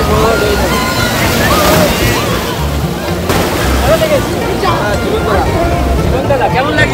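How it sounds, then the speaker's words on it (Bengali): Big sea waves breaking at Digha beach, a continuous loud wash and slosh of surf amid a crowded shoreline, with voices and crowd chatter over it. "এটা বড় বড় ঢেউ দেখা যাচ্ছে"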